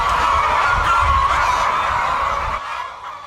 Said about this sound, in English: At this contract farm, chickens roam freely around the field, a relatively stress-free environment.